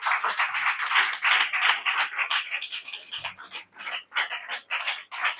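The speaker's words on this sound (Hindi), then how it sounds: "ताली बजा लो एक बार।" A church congregation at a Hindi-language Sunday service claps their hands together in dense, rapid, continuous applause close by, with no talking.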